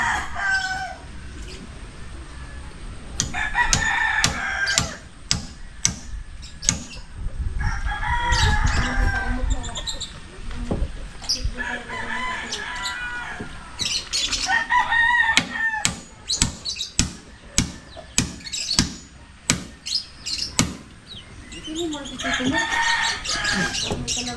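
A rooster crows repeatedly among clucking chickens at close range, with people talking intermittently over the farmyard birds.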